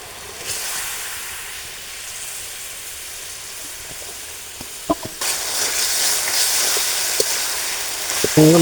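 Spiced katla fish pieces and potatoes frying in a pan: a continuous soft sizzle that grows louder and brighter partway through, with a few sharp clicks of stirring.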